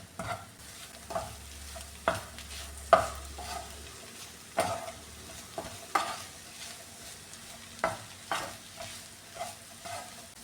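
Ivy gourd stir-fry with crushed coconut gets stirred in a pan. A spatula scrapes and taps in irregular, fairly quiet strokes over a low, soft sizzle.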